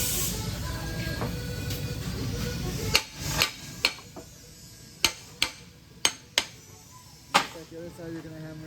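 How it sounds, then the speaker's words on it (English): A hammer taps a part into a TurfMaker hydroseeder gear pump, giving about eight sharp metallic strikes at an uneven pace, close and distinct over a low background hum. "The other side you're going to hammer, give it a couple taps, top, left, and then bottom."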